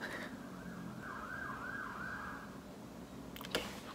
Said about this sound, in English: There's a siren now.